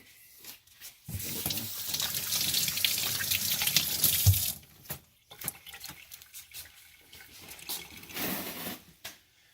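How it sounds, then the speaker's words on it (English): A running tap gushes into a sink as hands are rinsed between processing rabbits, a steady rush for a few seconds that then breaks into shorter splashes and drips. "Let me rinse my hands off."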